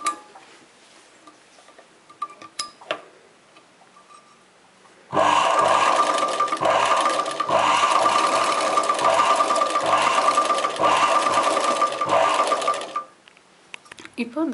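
Domestic sewing machine stitching straight embroidery lines on a chudidar neck design with mirror work, a loud steady whirring run of about eight seconds with a brief tapping start, preceded by quiet handling sounds.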